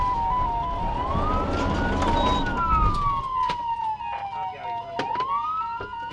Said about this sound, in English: The truck continued to roll slowly as I activated my siren at that point.